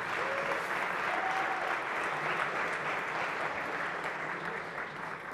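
Audience applause at a developer conference talk fills the whole span as steady, dense clapping from a large crowd, with a couple of brief high screams or whistles rising out of it near the start.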